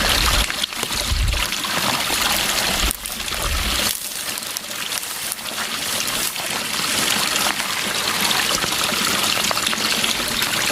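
A water supply trickling and gushing steadily nearby at a wild camp in Scotland's Kilpatrick Hills, a continuous splashy flow with a couple of brief dull thumps early on.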